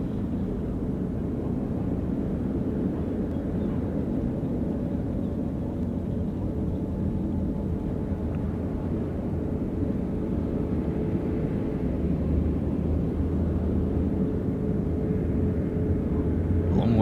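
Cathay Pacific Boeing 747-8 turning onto base leg for runway 34 left at Sydney Airport, heard as a steady, distant low jet rumble that holds evenly and swells slightly toward the end.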